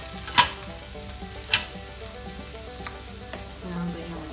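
Chopped capsicum, carrot and cabbage tipped into softened tomatoes in a hot pan, setting off a steady sizzle and frying crackle with a few sharp clinks of the utensil against the pan.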